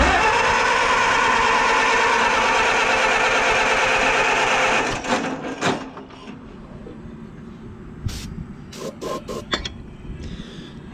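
A 1955 International 300 engine cranking over with the choke on, a steady loud mechanical churn for about five seconds that cuts off into quiet shuffling and a few clicks.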